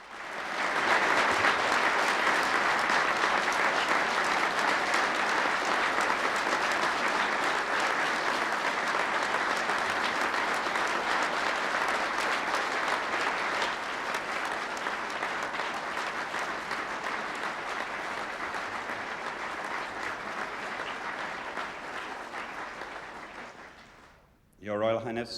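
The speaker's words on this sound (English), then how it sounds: "And they burst into thunderous applause." Thunderous, sustained applause fills a large hall at a formal function, loud and dense clapping from a big crowd that rolls on for over twenty seconds before tapering off abruptly at the end.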